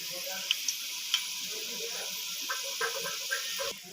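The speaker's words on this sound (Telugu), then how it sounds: "ఇప్పుడు ఆనియన్స్ ఎర్రగా వేగాయి." Onions fried with cumin, cardamom, cloves, shahjeera, cinnamon and chilli for a Telangana chicken curry, giving a steady soft sizzle in the pan with a few small crackles and pops and nobody speaking.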